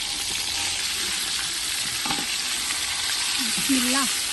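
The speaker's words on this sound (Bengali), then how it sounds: "মাছের এক পিট ভাজা হয়ে গেছে এখন মাছটা উল্টে নিব" Fish frying in hot oil in a pan, a steady close sizzle running throughout, with brief scraping and a faint tonal squeak near the end as the fish is turned over.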